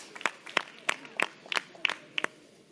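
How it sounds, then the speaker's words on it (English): A few people clap sparsely and unevenly for a team at a talk on the global Islamic economy. The separate claps come in a loose, quiet rhythm, about nine of them across a few seconds, with a sense of a small, roomy space. "All right, round of applause for this team."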